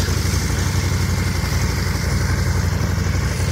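A snowmobile engine idles close by in Bear Valley Village, a steady, even, low putter with a constant rhythmic chug and no change in pace.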